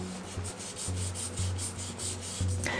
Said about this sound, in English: We sanded the edges a bit and then finished the paddle with some wax polish.